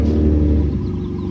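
A 2015 Ford F-150 EcoBoost fitted with AMS turbo adapters idles with a steady, deep exhaust rumble, loud and close, slight unevenness in the low drone and no talking.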